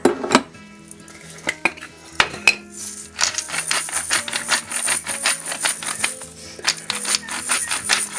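Salt and black pepper stirred through a vegan sausage roll filling in a bowl, a utensil clinking and scraping against the dish in quick, close, busy strokes, with no voices.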